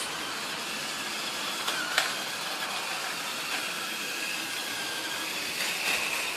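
A model tribute locomotive pulling teak coaches runs with a continuous whirring hiss and faint periodic clicks of wheels over track joints, fairly quiet and even.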